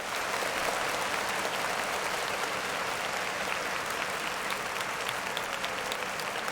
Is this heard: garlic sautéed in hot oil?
no